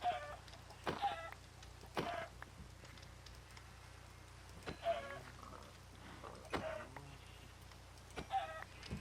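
Chickens in Minecraft's ATM10 modpack cluck in short, repeated bursts, quiet and spaced a second or two apart over a faint steady background hum.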